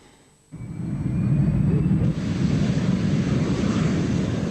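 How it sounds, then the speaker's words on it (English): A jet aircraft in flight sets in abruptly as a steady, loud roar of engine and rushing air, low and broad, holding on without a break to the end. "A jet is something special. I mean, there is a saying, jet noise is the sound of freedom."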